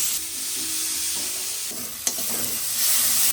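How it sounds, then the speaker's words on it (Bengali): Onion, tomato, ginger and garlic paste with turmeric, chili powder and salt frying in leftover fish-frying oil, a loud steady sizzle with scraping stirs and a rising hiss near the end. "মাছ ভাজার তেলের মধ্যেই দিয়ে দেবো পেঁয়াজ কুচি, টমেটো কুচি, আদা বাটা, রসুন বাটা, হলুদ গুঁড়ো, লঙ্কা গুঁড়ো, পরিমাণ মতো লবণ, সব কিছুকে একসঙ্গে কষিয়ে নেব"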